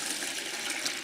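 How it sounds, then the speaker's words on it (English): Water pours steadily into a pail for mixing tile mortar, making a continuous, fairly quiet hissing splash with no pauses. "And I'll add in my water."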